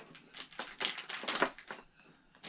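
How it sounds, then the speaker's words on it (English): A box being cut open, a quick series of sharp scraping and tearing bursts up close, with a brief pause before the cutting resumes. "Can you cut that open?"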